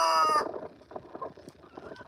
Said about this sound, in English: There's my chickens in here.